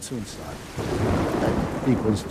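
Thunder rumbles low through a steady wash of heavy monsoon rain in the mountains of northern Burma, with a faint voice briefly audible near the start and end.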